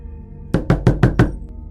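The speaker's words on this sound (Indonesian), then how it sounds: "suara ketukan pintu terdengar dari luar" Five quick, evenly spaced knocks on a door heard from outside, loud and close, with no talking over them.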